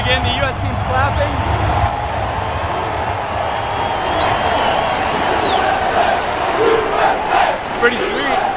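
Soccer fans fill a stadium before a final match involving the U.S. team, a loud continuous crowd roar with clapping and shouts rising and falling, close to the listener, while someone talks over it.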